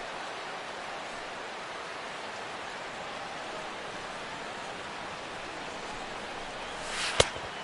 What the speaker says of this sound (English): EK, how'd you like playing in the rain